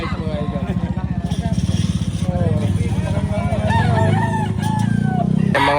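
A bull stag gamecock crows near a throbbing engine hum in Padre Garcia, Batangas, with someone talking loudly over the steady motor noise.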